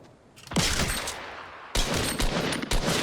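Gunfire in the video game Fortnite: a sharp shot followed by a burst of rapid, loud reports later on, with short gaps of quieter game ambience between.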